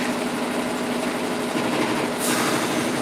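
An embroidery machine stitches a double stitch on a pumpkin lantern design in the hoop, giving a continuous, even mechanical whir close by.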